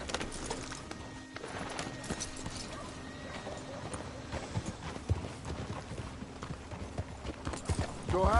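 Horse hooves clip-clop steadily in a video game as a rider travels, a continuous rhythmic patter of hoofbeats under a low ambient background.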